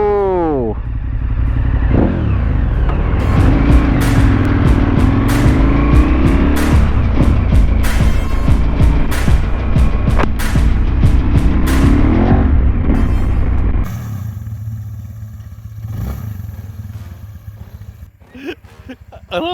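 An Arora Max T motorcycle engine revs hard and loud close by, rising and falling repeatedly, then drops to a rough idle while people talk and exclaim.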